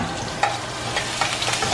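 Lamb frying in a hot pan while being basted, a dense close sizzle and crackle with small spoon-like scrapes and pops, continuous and loud with no voices.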